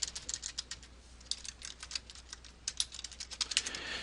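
Typing speaker notes on a computer keyboard, a quiet, steady run of light key clicks in an uneven rhythm with no talk.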